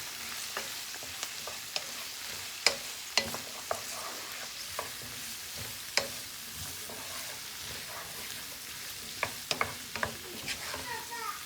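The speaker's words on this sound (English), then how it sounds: "now we're just going to saute all of this and just let the veggies cook up a little bit" Vegetables sautéing in a pan with garlic, a continuous low sizzle punctuated by occasional sharp clacks and scrapes of a stirring utensil, moderately quiet and close, no talk.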